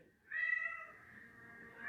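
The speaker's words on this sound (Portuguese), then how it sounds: "o gato ele tá desesperado" A house cat meows once, a drawn-out plaintive cry that starts sharply and trails off slowly, close by in a quiet room.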